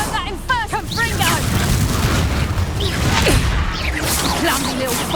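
A Confringo spell blast in the game Hogwarts Legacy: booming impact and whooshing bursts layered over a dense, loud game mix, with chirping creature-like voices and people talking underneath.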